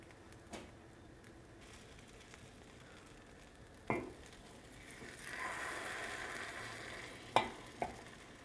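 Eggs for a goat cheese strawberry omelet fry in grease over high heat, giving a low, steady sizzle broken by a few scraping utensil knocks and a brief swell of hissing.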